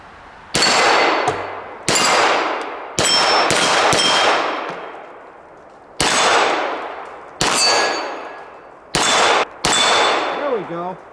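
An S&W M&P 2.0 9mm pistol fires a series of separate shots at an outdoor range, each one followed by a ringing clang as the round hits a steel target. The shots come at an uneven pace, loud and close.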